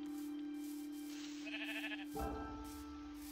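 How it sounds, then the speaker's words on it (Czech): Sheep bleating in the Minecraft game, a short bleat or two rising over a steady ambient drone, followed by a sudden louder low thump partway through. "Ne, jděte pryč ode mě, ovce."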